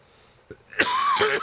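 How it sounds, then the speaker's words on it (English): A single harsh cough bursts out up close, followed by a short throat-clearing rasp, loud against a quiet background at a racetrack. "Oh man, I had to cough."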